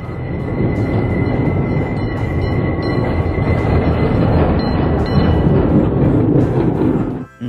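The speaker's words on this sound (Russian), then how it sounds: "Трамвай." A city tram rolls past with a loud, continuous rumble of wheels on rail, faint clicking joints and a steady high tone above it, close by until it fades sharply at the end.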